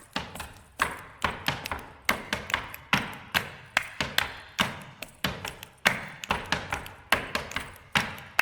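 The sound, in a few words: shoes stamping on the floor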